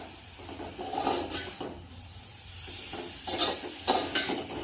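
Grated carrot for halwa frying in ghee in a pan, soft sizzling under uneven stirring and scraping strokes that swell and fade, without any voices.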